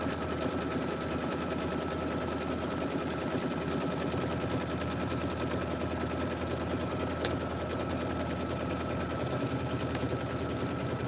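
Embroidery sewing machine stitching fabric over a stabilizer, a steady fast mechanical rattle running continuously and fairly close, with a couple of faint clicks partway through and no talking.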